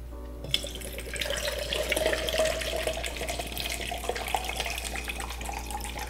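A drink, Crown Royal with Lipton peach tea, is poured from a can into a bowl of ice, giving a steady, close splashing and gurgling stream that runs for several seconds.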